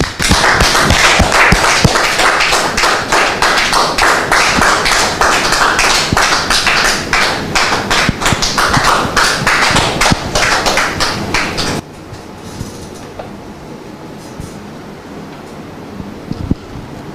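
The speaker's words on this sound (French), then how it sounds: "Public, merci de le recevoir avec vos applaudissements." A studio audience at a French television talk show applauds a guest's arrival with dense, loud, sustained clapping that cuts off abruptly, followed by a quieter room.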